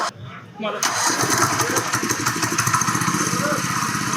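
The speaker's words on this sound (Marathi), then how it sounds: "जैसे कि हल्का सा आपने इसको ये चाबी घुमाना है, हल्का सा ये आपने इसको घुमाना है और ये स्टार्ट हो जाना है" A key is turned on a mini tractor power tiller and its small engine catches after a brief crank, then settles into a loud, steady chugging idle close by, with someone talking over it.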